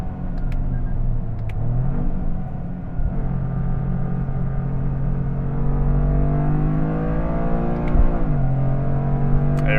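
A Toyota GR Corolla in manual mode accelerates through the gears from inside the cabin: a loud, steady engine drone that rises in pitch and drops at a couple of shifts, with rumble throughout.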